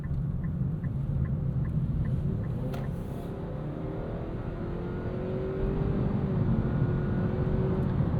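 A 2026 Nissan Sentra SL with a CVT accelerating flat out in sport mode, a steady engine drone under road noise that slowly rises in pitch, with faint honk-like tones early on.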